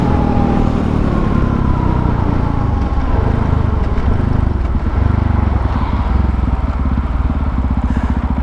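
A KTM 450 EXC dirt bike accelerates hard in a speed test, its single-cylinder engine a loud, close, continuous roar that rises in pitch through the revs without pause.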